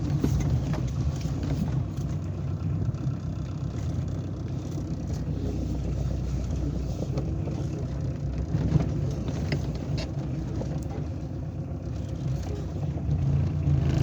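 A Citroën BX engine runs steadily at idle for the whole stretch, a low rumbling drone with faint background noise and no voices.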